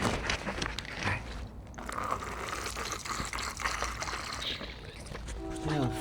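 A dog laps up water at close range, making soft, quick, wet splashing laps in a quiet outdoor setting.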